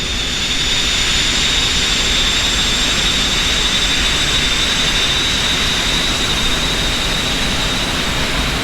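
Airliner jet engines in the X-Plane 11 flight simulator, a continuous loud roar with a steady high whine on top, unbroken throughout.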